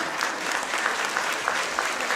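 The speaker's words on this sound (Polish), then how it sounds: "Brawa nie milkną." An audience claps steadily through the finale of a school music performance at a youth cultural centre in Kraków. The dense applause sustains at an even level with no break.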